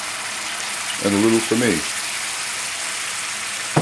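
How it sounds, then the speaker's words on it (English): Dry white wine poured into a hot pan with shallots, spinach and garlic butter for fusilli, a brief burst of sizzling and bubbling that flares twice and then settles into a steady hiss while someone talks. "So now we're going to put the white wine."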